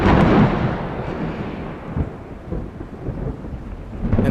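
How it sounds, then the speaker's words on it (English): Heavy thunder rolls and rumbles close and loud over steady falling rain, the low booming swelling and fading across the stretch with no voices. "And so you have thunder and lightning."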